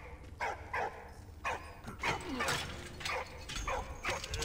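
A dog in the World War I video game Valiant Hearts gives a run of short barks, yips and whimpers, repeated every half second or so over a low rumbling game soundscape.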